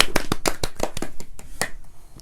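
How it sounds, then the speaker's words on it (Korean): A group at a Bible doctrine school camp lecture claps together in a quick, fairly steady rhythm, with sharp, close hand claps filling two seconds before thinning out at the end. "박수"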